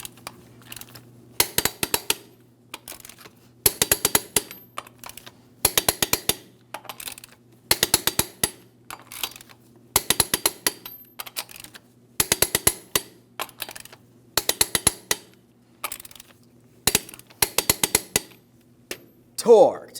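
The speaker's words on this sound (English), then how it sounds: "Let's go ahead and torque each of these lug nuts to 140 foot-pounds in a crisscross manner." Torque wrench tightening lug nuts on a 2007-2014 GMC Sierra 2500 HD wheel in a crisscross pattern, sharp metallic clicking bursts repeating in regular clusters roughly every second or two, with low background hum and faint talk.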